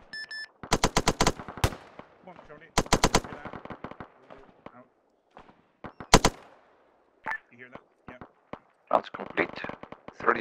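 Bursts of rapid automatic gunfire crack loudly in quick strings, with several separate sharp single reports and voices talking in between during a military exercise.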